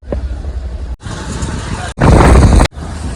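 A motor vehicle engine on the road during a motorcycle trip from Shirdi, heard in loud chopped segments of steady engine and road rumble, with a harsher, noisier burst near the end.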